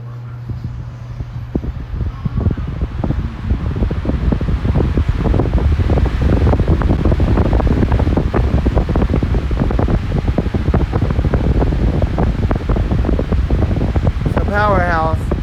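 An Air King 9218 fan runs loud and close, with a steady buffeting roar and gusty wind-like rumble filling the whole stretch, and a voice speaks over it near the end.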